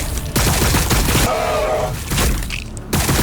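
Rapid bursts of gunfire and impacts in the Warhammer 40k Battlesector strategy game, loud and dense throughout with short gaps, mixed with battle noise and a brief synthetic tone.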